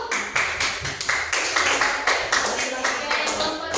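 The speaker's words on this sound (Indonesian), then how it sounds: "tepuk tangannya dulu." A classroom of students clapping together during an Islamic religious education lesson, a dense run of quick, fairly loud claps lasting several seconds with some voices mixed in.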